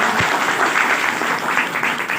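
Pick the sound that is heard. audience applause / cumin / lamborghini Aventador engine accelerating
audience applause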